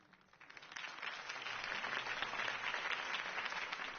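Crowd applause swells after a quiet start and keeps going steadily, a dense wash of many hands clapping at moderate distance.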